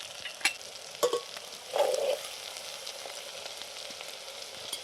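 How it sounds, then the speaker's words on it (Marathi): Garlic and whole spices fry in hot oil with a steady, soft sizzle close by, broken by a few brief scraping stirs of a utensil in the pan. "आता इतकीच आहे चांगले तळून घेतलं सगळं"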